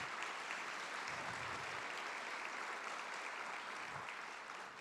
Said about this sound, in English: let's give a round of applause to all of our sponsors, please